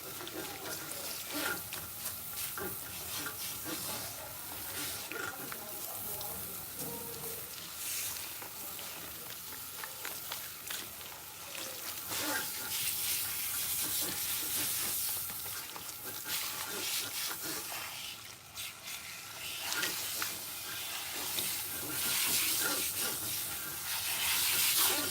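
Running water pours steadily over hair being rinsed, a continuous, fairly quiet broadband hiss and splatter that swells and eases slightly across the stretch with occasional faint voices underneath.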